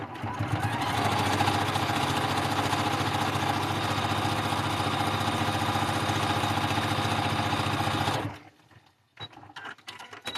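A sewing machine runs steadily for about eight seconds while stitching a quilt block along a marked line, a close, even mechanical whir that then stops abruptly, leaving faint handling noises.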